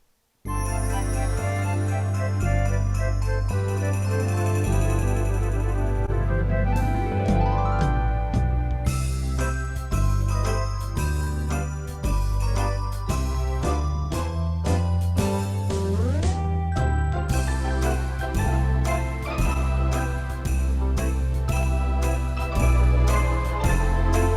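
A bright, bouncy keyboard accompaniment pattern, the Broadway Jingle Jangles style, with chiming, tinkling chords over a steady bass and beat plays continuously, with a couple of rising glide fills.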